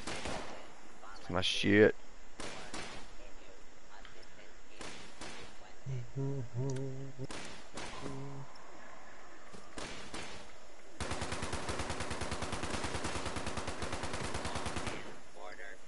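Rapid automatic fire from a vampire legendary .45 combat rifle in Fallout 76, a dense sustained burst near the end after scattered shots and brief talk.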